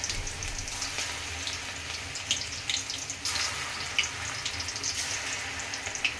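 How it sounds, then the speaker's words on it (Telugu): Poha pakoda (flattened-rice fritters) frying in hot oil, a steady, fairly quiet hiss with faint crackles throughout, no voices. "పకోడీ వేస్తున్నాం. సిమ్ పెట్టి వేసుకోండి."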